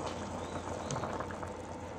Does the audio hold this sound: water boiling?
yes